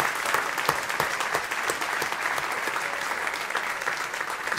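Congregation clapping together during a church service, dense and steady applause from many hands filling the room for several seconds.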